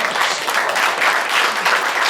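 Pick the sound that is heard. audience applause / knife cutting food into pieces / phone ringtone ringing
audience applause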